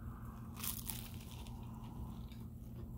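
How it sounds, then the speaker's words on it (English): Crunchy, gently salted pastry being bitten into close up, a brief crisp crunch near the start with soft chewing sounds after, over a steady low background hum. "the pastry is just really, really just gently salted, melts in your mouth, nice crunch"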